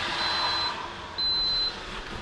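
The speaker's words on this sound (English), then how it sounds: "the double beep shows that the auto lock is going to work" A Schlage Camelot keypad door lock gives a double beep for its auto-lock: two short, high electronic tones about a second apart, close and clear over faint room hum.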